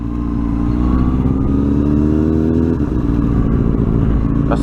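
A Honda Grom small motorcycle rides off, its engine droning loud and close with a steady buzzing note that dips and rises as it shifts and pulls away.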